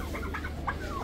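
Chickens at a poultry market in Kadhimiya, Baghdad, where turkeys are also sold, give several quick close clucks and short squawks over a steady murmur of market background noise.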